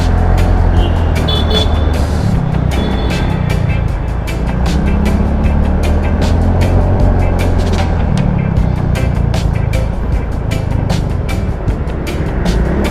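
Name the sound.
riding a Yamaha Fazzio 125cc scooter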